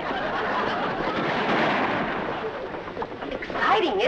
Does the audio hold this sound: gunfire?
yes